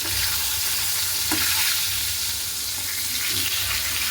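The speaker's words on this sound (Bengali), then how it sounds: "হলুদ তো দিয়ে ভাজা করে নিই ভালো করে পটলটা" Loud, continuous sizzling of pointed gourd frying with turmeric in a pan, with stirring scrapes throughout and no talking.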